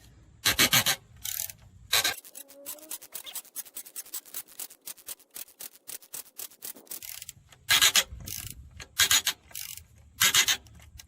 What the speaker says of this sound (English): Nice long extension, ratchet. You're gonna loosen this